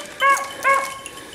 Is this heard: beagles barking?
yes